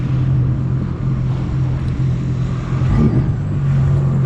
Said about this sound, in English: It's just punch the throttle and go.